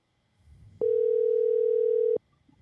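After a phone call is hung up, a telephone dial tone sounds as a single steady, loud electronic hum lasting just over a second, then cuts off abruptly.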